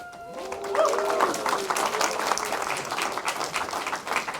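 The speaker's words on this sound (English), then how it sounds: "Round of applause." An audience applauds with a dense, even patter of clapping that holds for several seconds, while a voice sings or calls out briefly over the start.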